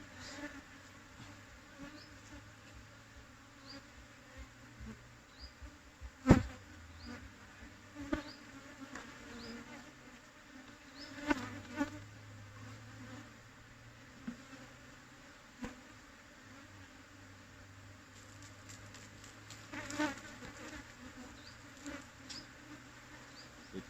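Bees swarm and buzz as a large honeycomb is harvested from an aggressive wild colony in Thailand's fifth-month season. The hum is continuous and close, with occasional louder passes, and no one speaks.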